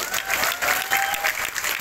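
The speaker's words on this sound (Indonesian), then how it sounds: "tepuk tangan dulu untuk mereka" A church congregation at an ecumenical Easter service in Batam applauds, a dense, continuous wash of clapping that stays loud and fairly close for the whole short stretch.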